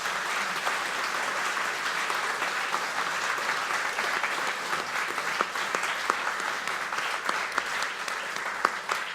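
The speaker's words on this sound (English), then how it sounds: "I'd like you to just give a round of applause" A seated audience at a comic art festival gives a sustained round of applause, dense and steady for the full nine seconds, with a few sharper individual claps standing out near the end.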